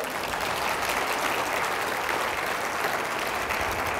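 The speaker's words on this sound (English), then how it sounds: "I want everybody else to give them a round of applause" Steady, full crowd applause from a seated audience honoring elected officials, continuous and even for a few seconds with no pauses.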